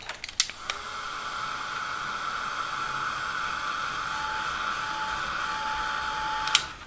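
Hair dryer blowing steadily across watercolour paint on paper, a continuous whooshing hum with a faint whine that runs nearly the whole time, bracketed by brief clicks at switch-on and switch-off.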